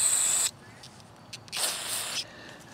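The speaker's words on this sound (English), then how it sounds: "I'm going to shoot some spray through it" Cleaner sprays through a small part of an Onan Marquis 5500 RV generator in close, hissing bursts: one short spray, a pause, then a longer burst followed by a brief final puff.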